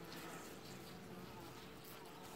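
Honey bees in an open hive box, a dense steady buzz filling the whole stretch, close and continuous with no speech over it.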